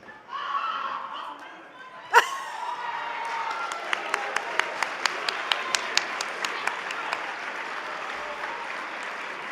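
An audience at a dinner program breaks into applause after a few voices and a sharp clap, building to steady clapping with some louder claps standing out, and light laughter and chatter underneath.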